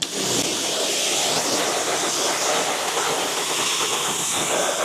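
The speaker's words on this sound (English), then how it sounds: "Now let's rinse down the wheel." A steady hissing spray of water rinses a car wheel after cleaning, a loud continuous broadband rush held close for several seconds without pause.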